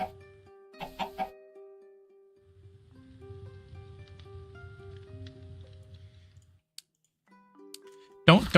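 Chickens clucking in the Minecraft modpack StoneBlock 4, a low busy game-sound murmur of several birds lasting a few seconds over a steady tone, with a couple of brief louder clicks before it and a burst of noise at the end.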